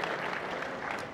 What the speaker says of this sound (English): Give her a round of applause as she comes on up.